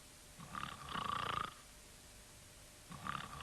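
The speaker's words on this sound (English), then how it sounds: "He was snoring." Cartoon-style snoring from a sleeping man, two long rumbling snores with a nasal whistle, the second cut off at the end, close and fairly loud against a quiet background.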